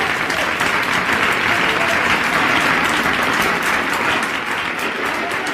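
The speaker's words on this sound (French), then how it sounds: "Et nous l'applaudissons bien fort." A studio audience claps loudly and steadily for the whole stretch, a dense, even wash of applause with no voices over it.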